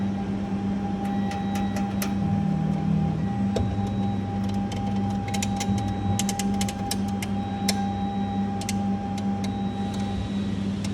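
A 3-axis CNC machine hums through its initial calibration, a steady electrical drone broken by short whirring motor moves and scattered ticks and clicks, close and fairly loud with no talk.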